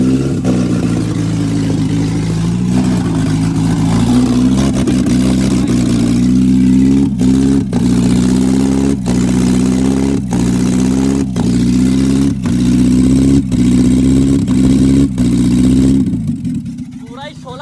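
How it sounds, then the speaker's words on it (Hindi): A car engine runs and revs repeatedly, loud and close, rising and falling in pitch with sharp pops between revs and a sudden cut near the end; no speech is heard. "गाड़ी स्टार्ट हो चुकी है और क्लियर है"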